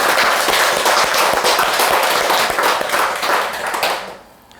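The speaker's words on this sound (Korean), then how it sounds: "축하의 의미로 내가 박수 칩시다" An audience claps in celebration at a lecture hall, a dense burst of applause that holds steady for about four seconds before quickly fading out.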